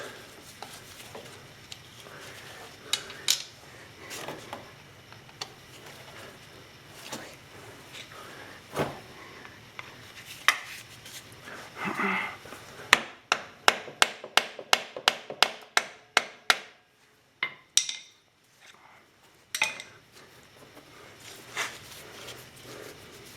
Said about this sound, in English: tap or use your impact wrench to loosen these screws